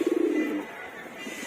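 A pigeon coos in a loft among big pigeons, a loud, rolling pulsed coo that fades after half a second into a steady background hum, with no voices.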